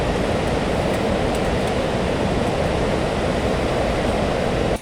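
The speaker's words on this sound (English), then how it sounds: "The natural sounds of a waterfall are absolutely breathtaking." Constant, loud rushing water roars without a break, a dense, steady wash of an Icelandic waterfall heard up close.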